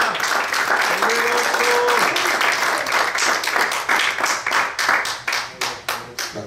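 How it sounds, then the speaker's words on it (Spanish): A church congregation gives loud, sustained applause, dense clapping that gradually loosens into separate claps, with a brief voice near the start. "Un aplauso fuerte."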